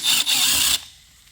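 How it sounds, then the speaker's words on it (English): A ratchet works the last Torx 30 bolt free from the EGR valve of a VW TDI 2.0 CJAA diesel. It makes a loud, close, rasping burst with a brief catch partway through, then stops. "So I will remove this last Torx 30."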